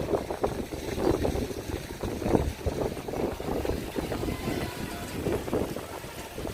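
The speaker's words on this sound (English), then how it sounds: "the wind is picking up, clearly" Wind gusting on a snowy, near-freezing day in New York City, a loud continuous roar buffeting the microphone in uneven surges.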